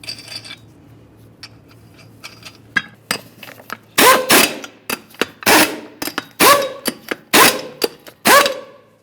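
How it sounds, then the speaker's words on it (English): Lug nuts being run onto the wheel of a 2012–2018 Nissan Altima, with scattered light metallic clicks followed by a series of loud, close tool bursts in quick succession. "Start on all of your lug nuts, bottom them out, get the wheel back on the ground."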